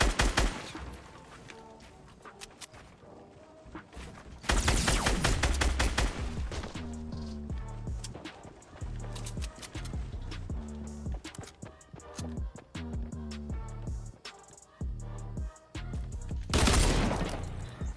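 Rapid gunfire crackles in a Fortnite-style building video game, with bursts of shots and sharp impacts coming in uneven clusters. Short quiet gaps fall between the volleys, and one loud crash lands near the end.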